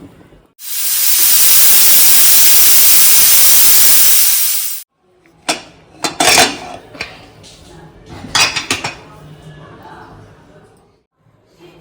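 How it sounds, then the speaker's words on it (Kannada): A pressure cooker cooking chicken and egg sambar lets out one long, loud, steady hiss of escaping steam, then stops. Clinks and scrapes of pots and utensils follow nearby. "ಈಗ ಕುಕ್ಕರ್ ಮುಚ್ಚಳ ಮುಚ್ಚೋಣ, 5 ವಿಷಲ್ ಹೊಡ್ಸೋಣ."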